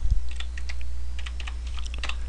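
Someone types a word on a computer keyboard while making primitive labels, a quick run of light clicking keystrokes close by over a low steady hum.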